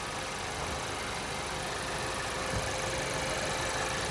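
A car engine held at about 2,500 RPM during a battery and alternator test, a constant, even drone with a steady hum and no changes in pitch, loud and close with no voices.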